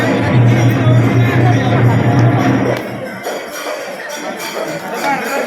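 Pilgrims crowd the Khandoba temple at Pali, a dense, loud murmur of many voices and shuffling, with a steady low hum in the first half that drops away, the babble continuing close throughout.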